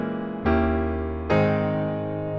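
Two sustained chords on a keyboard, a minor two-five moving to a major chord, each struck cleanly and left ringing, close and without any voice.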